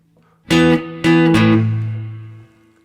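Guitar plays the closing phrase of a song's melody in a solo arrangement: three plucked notes or chords, each struck sharply and ringing, the last sustaining and slowly decaying, alone with no voice.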